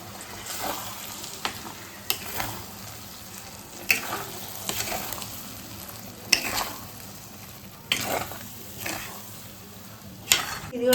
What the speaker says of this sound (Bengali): জলটা দিয়ে ভালো করে নাড়াচাড়া করে নিয়েছি